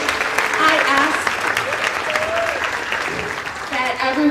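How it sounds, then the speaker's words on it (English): School audience claps for an elementary senior orchestra leaving the stage at a spring concert, steady applause with faint voices and chatter mixed in, swelling again near the end. "Let's give them a round of applause as they leave the stage."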